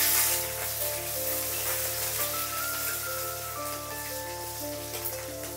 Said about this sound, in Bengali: তেজপাতা শুকনো লঙ্কাটাকে ভালো করে ভেজে নিচ্ছি